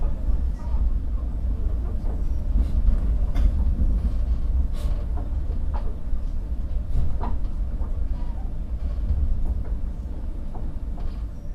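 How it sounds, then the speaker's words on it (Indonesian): Pandalungan passenger train pulling into Surabaya Gubeng station, heard from inside a carriage as a continuous low rumble with clanks and rattles of the railcars, and faint thumps scattered throughout. "Kereta api Pandalungan yang saya naiki telah tiba di stasiun Surabaya Gubeng"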